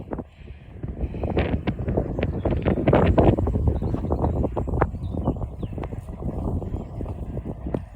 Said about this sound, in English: Wee bit windy here today, so I hope it doesn't spoil the video for you.